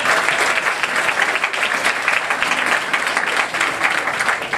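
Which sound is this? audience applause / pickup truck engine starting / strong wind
audience applause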